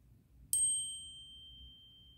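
A single bright chime from an Apple Watch SE 2022 signals an incoming message, struck once and ringing out with a clean tone that decays over about a second against a quiet background.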